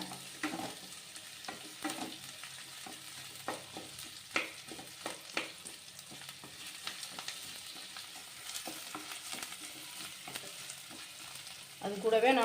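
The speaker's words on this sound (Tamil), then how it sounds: "நல்லா வெங்காயம் நல்லா அரமாக வறுத்துக்கோங்க" Onions frying in a pan for a Chettinad fish curry, a quiet steady sizzle broken by scraping stir strokes, louder crackling near the end.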